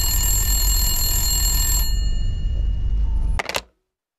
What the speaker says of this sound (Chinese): 长官，总统内线电话。